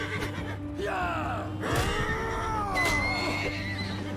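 A horse in the video game Mount & Blade II Bannerlord gives several whinnying neighs with rising and falling pitch, moderately loud over a low game background hum, with no speech.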